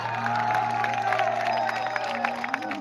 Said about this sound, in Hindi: दाऊ मंद्रा जी, खमान लाल साहू जी, ताली बजाना चाहिए जोरदार।